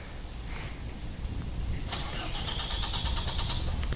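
A gas bus, number 577, starts up at a station with a cranking burst that settles into a steady, rumbling mid-pitched idle, fairly close amid ambient noise.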